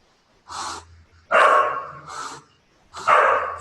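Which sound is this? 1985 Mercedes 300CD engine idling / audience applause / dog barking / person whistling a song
dog barking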